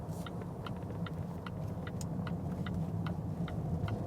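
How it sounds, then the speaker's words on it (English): A Volvo S90 T6 four-cylinder engine hums quietly and steadily at cruise, with a faint regular ticking running over it. "It's a calm engine, 4 cylinders."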